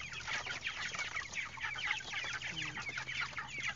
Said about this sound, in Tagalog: winiwisik-wisikan ko ng konti yung mga manok para nakakaligo sila